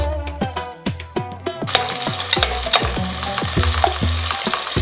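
Large onion stir-fried in ghee and coconut oil for Ramadan nombu kanji: a rapid series of close spatula scrapes and clanks against the pan, then a loud sizzle rising under continued rhythmic stirring.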